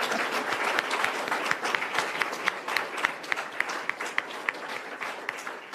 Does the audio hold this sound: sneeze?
no